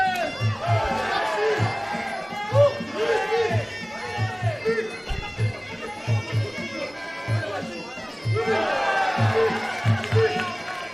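Muay Thai fight crowd roars and chatters loudly in waves under continuous speech, with rhythmic thuds and cheers rising and falling throughout.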